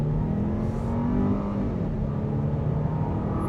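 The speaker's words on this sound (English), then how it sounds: "Now we're going to turn this quickly around and see if we can speed up here." A 2026 Jeep Grand Cherokee L Limited with a four-cylinder turbocharged engine accelerating, a steady loud engine drone and road roar that builds slightly, heard from inside with no talking.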